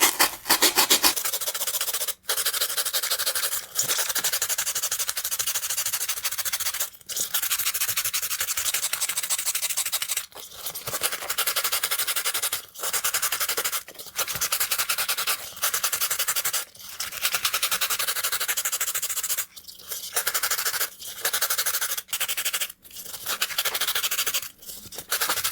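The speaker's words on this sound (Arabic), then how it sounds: "ودلوقتي جت مرحلة الصنفرة" Grade 150 sandpaper rubbing over a foam ball by hand, a continuous rough scraping hiss close up, broken by brief pauses as the paper is repositioned.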